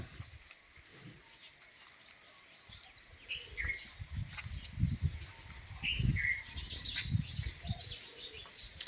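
Birds chirp and tweet intermittently at moderate distance, with soft cooing, over a low outdoor rumble in cool 7 a.m. breeze that grows slightly louder midway.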